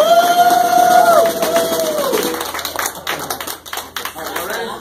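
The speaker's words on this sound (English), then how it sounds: "Y'all give her a round of applause." Audience claps and cheers for a performer's mother before a live band plays, starting under a held musical tone and ringing feedback, then breaking into scattered, lively clapping.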